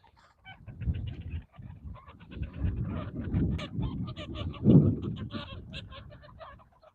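Many ducks and other waterbirds, with white pelicans nearby, call outdoors in a steady overlapping chorus of honks and quacks, with one louder honk standing out near the middle.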